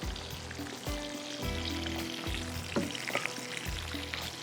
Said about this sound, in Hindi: और इसके अंदर जाएंगी शिमला मिर्च, इसको थोड़ा फ्राई करेंगे।